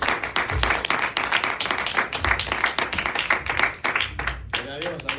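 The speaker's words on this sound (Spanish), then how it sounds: "Denle un fuerte aplauso al Señor," A church congregation claps along during a lively Spanish-language worship service, with steady, dense clapping filling the room and voices mixed in throughout.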